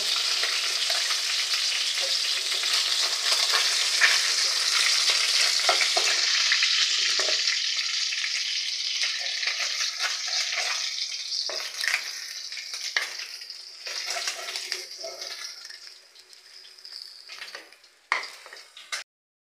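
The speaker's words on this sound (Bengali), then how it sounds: "এবার আমি বাকি মাছগুলোও ভেজে নেব" Oil sizzles and crackles steadily as bronze featherback fish fries in a pan, with occasional light clicks and pops fading quieter toward the end.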